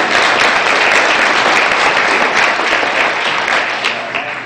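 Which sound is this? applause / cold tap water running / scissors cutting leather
applause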